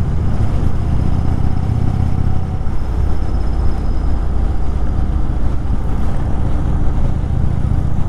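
A 2018 Indian Chief Dark Horse with an 1800cc engine rides along, giving a loud, steady low rumble and roar mixed with wind noise, continuous and close with no pauses and no talk.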